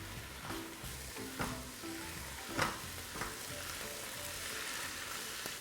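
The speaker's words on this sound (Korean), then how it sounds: "양념이 고추에 살짝 배이도록만 이렇게 볶아주세요." Shishito peppers are stir-fried in a seasoning sauce, giving a steady close sizzle with a few louder clinks and scrapes from stirring. No one talks.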